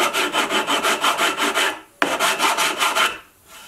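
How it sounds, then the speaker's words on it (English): Sanding block rubbed back and forth across wood on a diagonal bandsaw jig, a steady rhythmic scrubbing of about a dozen close strokes in two bursts, each ending in a brief pause. "Use your sanding block for smoothing that out."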